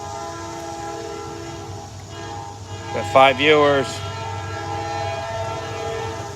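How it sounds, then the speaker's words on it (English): A train horn sounds in two strong blasts near the middle, over a steady rumble of a passing train; a person speaks briefly. "Oh, there's the train."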